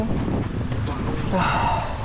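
Strong wind at sea from a passing squall buffets the microphone in a steady, loud rush, with a faint voice underneath.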